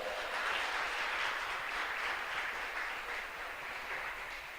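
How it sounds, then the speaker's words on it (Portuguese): Church congregation clapping during an evangelical sermon, a dense, steady wash of many hands applauding at once, fairly loud and sustained without a break. "Você pode aplaudir o Senhor?"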